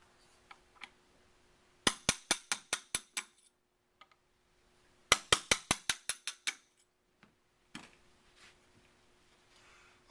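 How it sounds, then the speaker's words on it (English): Sharp metallic taps from driving small pins out of a Remington 7400 rifle trigger assembly, two quick bursts of about seven ringing strikes each, then a few scattered knocks and clicks up close. "get rid of the trigger assembly out of these guns. You do that by driving two little pins out"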